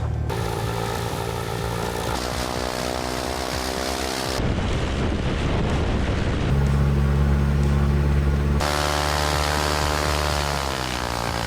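A propeller airplane long parked for years runs up its engine while held on the brakes, a loud close droning roar whose pitch steps up and down as power changes, with no talk.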